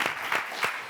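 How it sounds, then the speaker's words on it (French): A short burst of audience applause for a singer, moderate and fairly distant, with a few sharper claps standing out in the wash. "applaudissez pour elle, s'il vous plaît."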